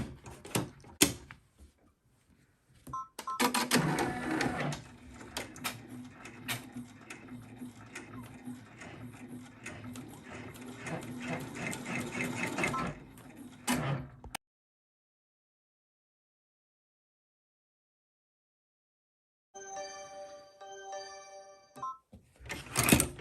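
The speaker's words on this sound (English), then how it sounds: "I am going to do my placement stitch for the actual book cover" An embroidery machine sews a placement stitch on tearaway stabilizer in a hoop, a rapid, steady mechanical chatter lasting about ten seconds. It then stops, and after a silence a few short electronic beeps and clicks follow.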